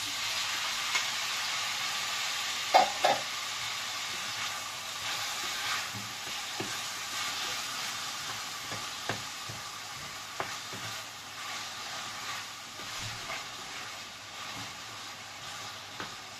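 Pork with salty fish and tomato frying in a pan, a continuous close sizzle with sharp spattering pops and occasional utensil scrapes scattered across the whole stretch.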